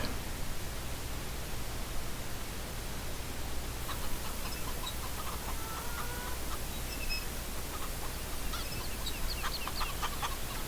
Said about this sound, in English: Now let's go check out the new enhanced chickens.